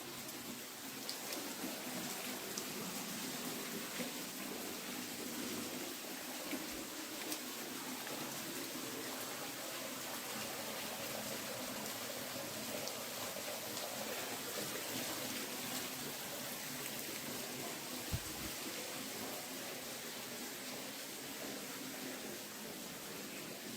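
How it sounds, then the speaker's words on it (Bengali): Water drips and trickles from all around inside a cave in Meghalaya, a steady, faint rain-like patter that continues evenly with no voices. "এখন ফোঁটা ফোঁটা ফোঁটা ফোঁটা জল পড়ছে চারদিক দিয়ে"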